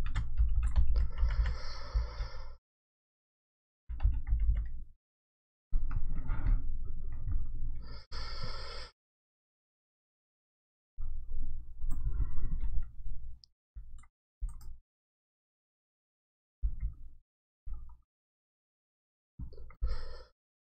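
Computer keyboard keys clack in quick bursts of typing, close to the microphone, with pauses of silence between the bursts and no talking.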